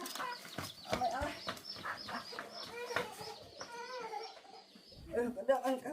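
Chickens clucking at close range in a rural household yard, with busy, repeated calls and some overlapping talk in the background.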